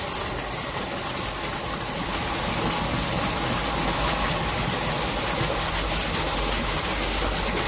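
A homemade 12V 250W water pump motor, drawing about 15 to 16 amps from a 12V battery, runs steadily with a continuous broadband whir and low hum, close and unbroken throughout.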